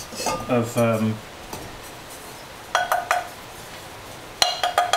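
Several light ringing taps on bisque-fired pottery bowls fresh from the kiln, short slightly soft clinks in small clusters, close by, with a brief voice-like sound at the start.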